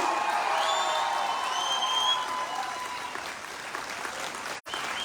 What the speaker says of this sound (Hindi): क्या इस गर्मी को और खड़े होकर अपनी जगह पर सुरेखा मैडम के लिए जबरदस्त तालियां बजा सकते हैं हम लोग